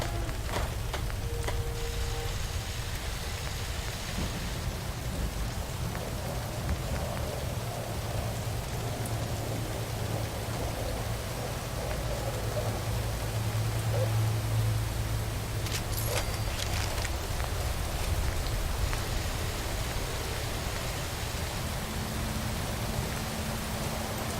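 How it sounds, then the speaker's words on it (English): Steady rain falls in Fallout 4, a continuous dense hiss of drops across the whole stretch with a low rumble beneath, no voices. "Hope this rain lets us in."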